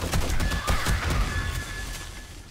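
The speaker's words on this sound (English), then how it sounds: "look at all this freaking firing" Dense, rapid gunfire from a horde battle in a video game, a loud continuous fusillade of overlapping shots and bursts that stays steady and close throughout, with no talking.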